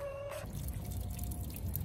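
A thin trickle of water drips and splashes softly as a dog catches it with her tongue, with a faint tone fading out early on.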